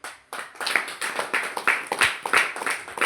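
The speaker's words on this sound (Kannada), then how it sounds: "ಚಪ್ಪಾಳೆ ಮಾಡಿದ್ರಲ್ಲ" Clapping from a crowd at a devotional discourse by Govind Maharaj in Korsegaon, dense irregular hand claps building and holding steady, close and lively, with no talk over it.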